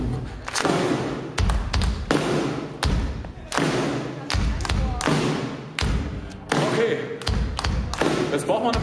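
A live audience at a music event in Bad Homburg thumps and claps out a steady rhythm together, loud repeated booming thuds and sharp slaps filling the room with a driving beat.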